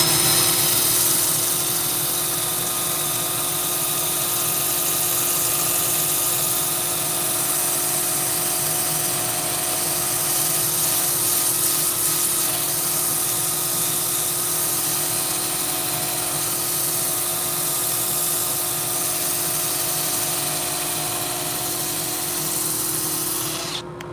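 Sandpaper rubs against a spinning piece of Tree of Heaven wood on a lathe, giving a continuous, even whirring hiss over the steady hum of the motor for the whole stretch, with no voices.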